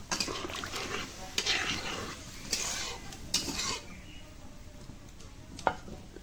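Cashew paste added to a hot pan for a Bengali potol bhapa with potato and green banana, a close sizzle with scraping stirs and a few sharp utensil knocks against the pan.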